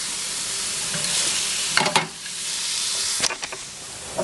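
Carrots and onions sauté in a pan for a shepherd's pie, giving a steady close sizzle, with a few sharper scraping stirs of a utensil partway through.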